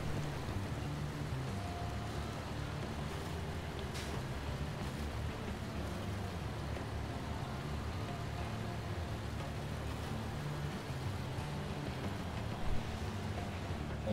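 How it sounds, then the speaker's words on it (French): Steady, dense rain in the truck-driving game Snowrunner, a constant broadband wash with low rumble, evenly loud throughout with no talk. "Et il pleut, évidemment."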